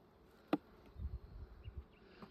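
Honey bees buzz faintly in the background during a beehive inspection, a low droning hum with a sharp tap near the start and soft rustling underneath.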